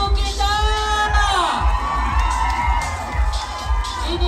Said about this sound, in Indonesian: Tepukan untuk juara Ratu kita.